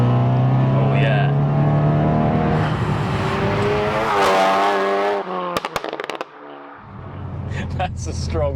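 A 460bhp hybrid turbo Audi S1 pulls hard through fourth gear, its engine note climbing loud and strained from inside the cabin before a sharp gearshift break with clicks, then resuming. Voices are heard briefly at the start.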